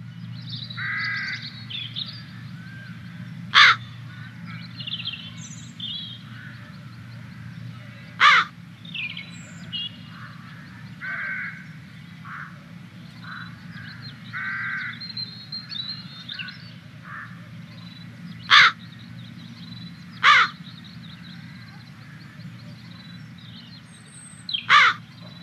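Crows caw in short, loud, harsh bursts, five of them spaced irregularly over a low, steady background hum.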